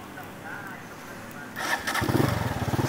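An imported Vento 150cc motorcycle starting, with a quiet buildup and then the engine catching into a close, pulsing, rough idle at the end.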